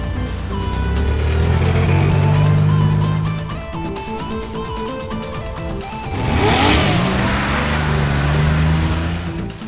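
Monster truck engines rev loudly at a pit stop during a monster truck race, with rising and falling throttle swells, a quieter dip midway, then a sharp roar building again.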